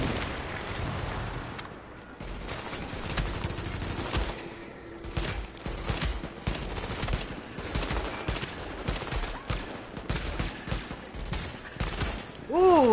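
Rapid bursts of automatic rifle fire and scattered single shots crackle through a firefight in The Division, sustained and fairly loud, with a few brief spoken remarks between volleys.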